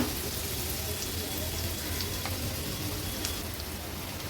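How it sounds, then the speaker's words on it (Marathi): Chopped onion frying gently in oil over a low gas flame, a steady soft sizzle and crackle that runs evenly throughout, close by and fairly quiet. "कांदा पण तेलावर छान आपल्याला शिजवून घ्यायचा आहे"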